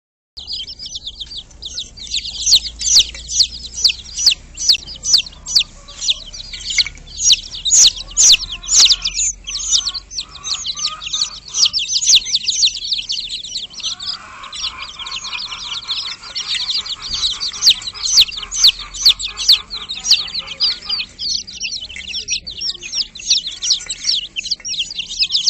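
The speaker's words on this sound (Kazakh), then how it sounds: "Балапан." Young chicks chirp loudly and continuously, a dense stream of high, rapid peeps held close for the whole stretch, with faint lower clucking underneath midway.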